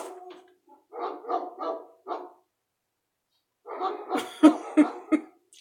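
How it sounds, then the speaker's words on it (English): Several neighborhood dogs barking, a few close sharp barks followed after a pause by a longer cluster of rapid overlapping barks. "But it's my dog, the neighbor dog, and probably all the dogs in the neighborhood."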